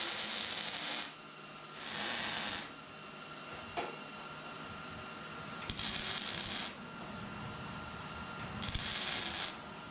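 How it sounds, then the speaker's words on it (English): Tack welds on a steel frame being boxed in, heard as four separate crackling bursts of about a second each with quiet gaps between them, close and fairly loud. "I'm gonna start tacking this thing in."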